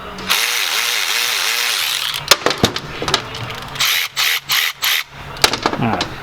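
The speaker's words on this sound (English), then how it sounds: "this Snap-on electric ratchet is pretty amazing" A Snap-on 1/4-inch electric extended reach ratchet whirs in a rising and falling motor whine, then runs in several short, loud bursts separated by gaps, close up.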